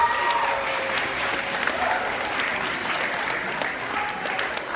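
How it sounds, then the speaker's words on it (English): Audience applause for a former student invited to speak, a steady wash of clapping from a room full of people that holds evenly from start to finish at moderate distance. "Give Ethan a round of applause."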